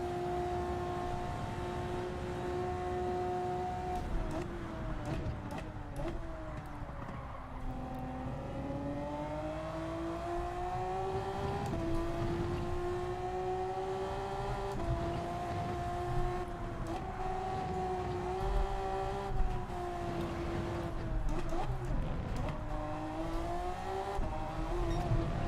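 A race car engine in Gran Turismo 7 revs hard and holds high, steady pitch, sliding up and down through gear changes as the car powers out of slow corners, continuous and fairly loud.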